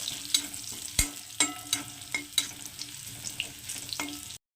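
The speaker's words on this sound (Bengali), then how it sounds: "রসুনটাকে রসুনটাকে একদম লাল লাল করে ভেজে নেবো" Crushed garlic fries in hot oil in a pan, giving a close, steady sizzle broken by sharp clicks and scrapes as it is stirred.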